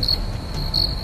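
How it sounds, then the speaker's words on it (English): Crickets chirp in a steady high-pitched trill, two louder pulses standing out over a constant background, clear and close with no speech. "I'm just hearing crickets."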